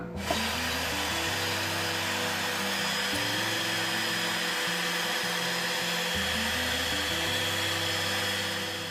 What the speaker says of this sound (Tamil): இப்போ எலக்ட்ரிக் பீட்டர் வந்து யூஸ் பண்ணி இதை வந்து நம்ம பீட் பண்ணிடலாம்